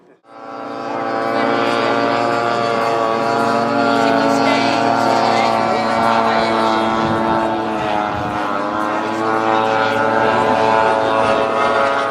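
A small propeller engine of a model airplane drones steadily at a model fly-in, flying and landing, with a buzzing tone that shifts slightly in pitch, continuous and fairly close.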